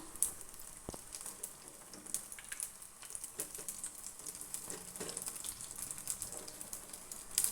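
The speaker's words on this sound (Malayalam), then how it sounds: "അപ്പോൾ അത് ഒരു ഭാഗം ഫ്രൈ ആയി വന്നിട്ടുണ്ട്. ഇനി നമുക്കിത് മറിച്ചിട്ടെടുക്കാം." Spicy masala banana fritters (pazham pori) crackle steadily in hot oil, a continuous bright sizzle with scattered pops and occasional faint clinks, moderately close and alone without talk.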